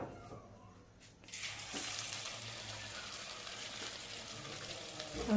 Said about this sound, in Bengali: তেলে ছাড়া হচ্ছে তো একাদশীর একদম স্পেশাল মুচমুচে চপ